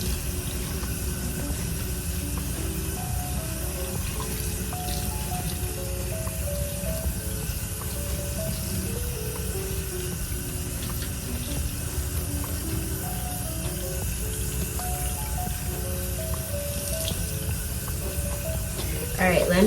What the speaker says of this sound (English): let me get this shampoo rinsed out